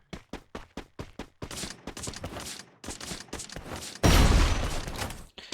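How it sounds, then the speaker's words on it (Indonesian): Gunfire crackles in a battle royale video game during a tournament match: rapid spaced shots at first, then denser sustained bursts and a loud close blast near the end, heard without talk. "Tembakan dibuka ke arah atas, tapi misalnya malah terkena damage, bukan terkena knockdown."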